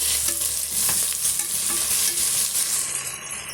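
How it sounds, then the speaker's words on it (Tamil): Ginger garlic paste sautéing in hot oil for Ambur chicken biryani, a steady close sizzle with intermittent scraping and stirring strokes of a spoon against the pan. "ரெண்டு டீஸ்பூன் அளவுக்கு இஞ்சி பூண்டு பேஸ்ட் வந்து சேர்த்துக்கலாங்க சேர்த்துட்டு இது பச்சை வடை போகிற வரைக்கும் ஒரு மூணு நிமிஷம் வதக்கி விட்டுக்கலாம்"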